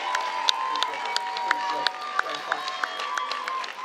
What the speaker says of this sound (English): a big round of applause for both of these ladies